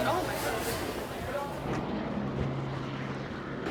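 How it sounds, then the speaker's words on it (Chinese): Helicopters taking off from a cruise ship dock on a Seattle-to-Alaska cruise, heard as a steady droning engine rumble in the distance with people talking over it. "我们一出来就看到了全是直升飞机在起飞，就从码头这边就能起飞了。"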